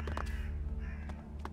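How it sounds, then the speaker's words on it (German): Seagulls call in the video game Elex, a few harsh squawking cries over a dense, steady ambient game soundscape with low rumble, no talking. "Und Möwen."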